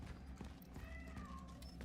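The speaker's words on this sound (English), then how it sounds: "Oh, I heard a kitty cat." A cat meows faintly in the sci-fi horror game Cronos: The New Dawn, a couple of short rising cries set low within a dense, rumbling game ambience.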